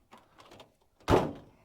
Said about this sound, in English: The door doesn't close real good, but there it goes.